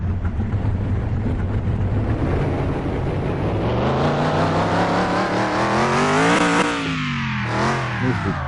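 A car engine in Car Mechanic Simulator 2021 starts on a test path and revs, rising steadily in pitch to a loud peak, drops briefly, then climbs again. The sound is continuous and close, with no talk.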